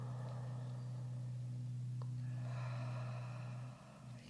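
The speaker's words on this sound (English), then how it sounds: "Lovely deep breaths and then slow exhales" A person takes slow, deep breaths and lets out long exhales during a calm yoga session for hip and lower back tension. The breathing is soft and close over a low steady hum, with a sharp catch near the middle.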